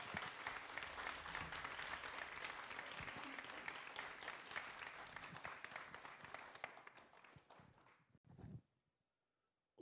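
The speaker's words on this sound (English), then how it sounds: "please join me in giving them a warm round of applause" An audience applauds at an evening event as the hosts are welcomed, a dense, steady clapping that fills the room for about eight seconds before tapering off abruptly.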